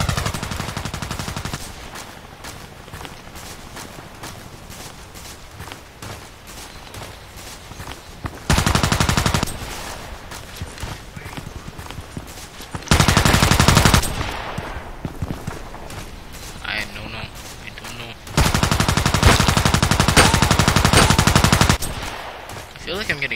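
Rapid automatic gunfire in the shooter game Contract Wars, sounding as repeated loud bursts of several seconds each with quieter sporadic shots and ambient game noise in between.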